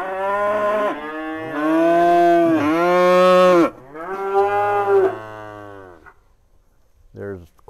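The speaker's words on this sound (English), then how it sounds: "So good group of calves." South Poll/Angus cross calves on a ranch giving several long, loud moos in sequence, close by, followed by a short final bawl.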